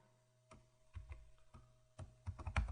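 Keys clack on a computer keyboard as Python code is typed, with scattered single taps building into a quicker run of keystrokes at the end, faint and close.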